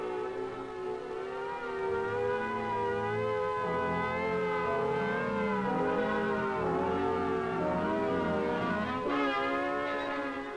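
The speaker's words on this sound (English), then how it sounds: "the alert will be a warbling siren blast lasting 3 minutes" A loud civil defense siren warbles continuously, its rising and falling wail sustained throughout with steady volume and no other sounds.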